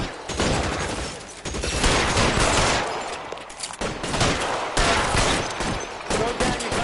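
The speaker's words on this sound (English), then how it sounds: "Those gunshots are really loud in my headset." Loud, rapid bursts of gunfire crack and roll one after another, a dense volley in L.A. Noire with brief pauses between salvos.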